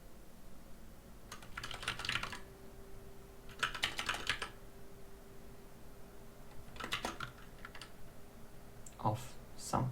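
Typing on a computer keyboard in short bursts of quick key clicks separated by pauses, moderately close, over a faint steady hum.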